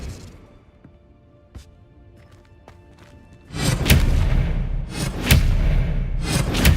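Spells are cast in Hogwarts Legacy: sparse faint thuds and ticks, then heavy booming magical blasts and impacts that hit loud and close, with bursts of swishing energy repeating in the second half.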